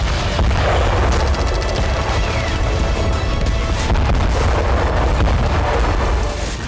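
A GLSDB bomb strike in Kherson rumbles as a dense, continuous roar of blast and booming noise, loud and close, with no voices.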